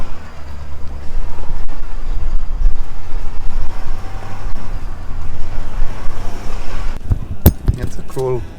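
Off-road vehicle in four-wheel drive on a dirt trail in the Panoche Hills, a loud steady low engine and tire rumble with rattling, ending in sharp knocks and jolts, a voice talking over it.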